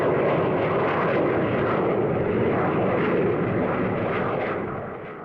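A delta-wing jet aircraft flies past with a loud, sustained roaring engine rumble that holds steady and then begins to fade toward the end.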